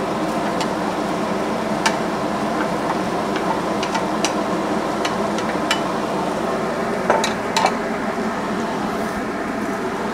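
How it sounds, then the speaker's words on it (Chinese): Stir-fried taro with a little sugar is tipped into a pot and stirred, a steady sizzling hiss broken by occasional light clicks and scrapes of the utensil against the pot, close and with no talking. "现在我们就可以把之前我们炒过的这芋头放进来了"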